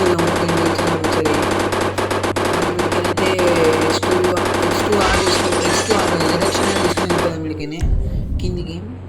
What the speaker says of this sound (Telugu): మిషన్ గన్ తీసేసుకున్నాం